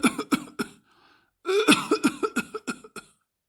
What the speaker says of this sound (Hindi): उम्र हो गई है और कुछ नहीं, बस इसीलिए खांसी आती रहती है